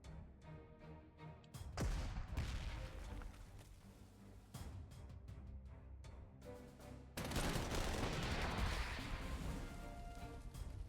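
Gunfire aimed at an enemy vehicle in the Panzer Corps 2 strategy game, with sharp blasts at intervals and a heavy burst near the end, loud and free of talk.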